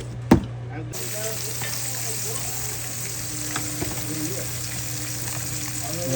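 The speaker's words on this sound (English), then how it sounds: "We about to fry these things on up." Seasoned spare ribs frying in hot oil give a steady, loud sizzle and crackle throughout, with a sharp pop near the start and occasional small spits, no talking over it.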